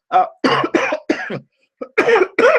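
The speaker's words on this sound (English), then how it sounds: "Nasty cough." A series of harsh, repeated coughs in quick bursts, close and loud, with a short pause before a final few hacking coughs.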